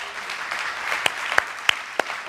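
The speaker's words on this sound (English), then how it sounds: "Clap your hands and praise God. Come on, clap your hands." Hands clap in a church congregation, a sparse handful of sharp claps rising over low room murmur, with a few distinct loud claps spaced irregularly.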